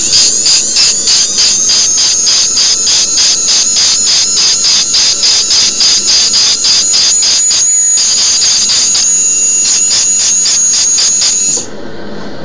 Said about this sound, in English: I will be working on the surface of my coping with this burr. Always going in one direction.